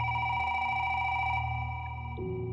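A telephone rings with a steady electronic bell tone, loud and close, then cuts off near the end with a low hum left behind.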